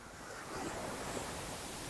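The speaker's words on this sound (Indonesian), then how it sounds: "perahu nelayan yang terombang-ambing terkena ombak karena memang ombaknya cukup kencang ya" Strong sea waves wash onto Pantura beach on Java's north coast, where fishing boats bob offshore, a steady, even roar of surf with a little wind in the microphone.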